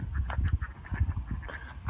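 A group of ducks quacks repeatedly in a garden on a very rainy, cloudy day, with a rapid, uneven chatter of calls close by and no talking.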